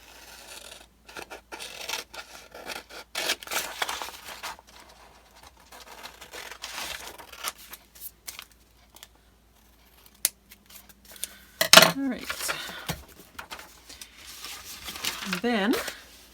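Scissors trim paper in a quiet crafting setting, with soft, intermittent snips and crinkles spread through the clip, close and faint, plus a few sharper handling sounds near the end.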